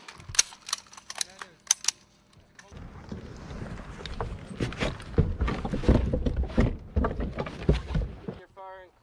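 Rifle shots crack at a Marine marksmanship range during battle sight zero firing, several sharp reports early on, then wind noise and voices talking over the range.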